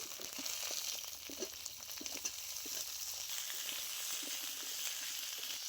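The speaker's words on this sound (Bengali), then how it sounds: "প্রথমে আমি আলু সজনে ডাঁটা কষিয়ে নেব।" Potatoes and drumsticks frying in a pan, a faint continuous sizzle with soft stirring scrapes and taps.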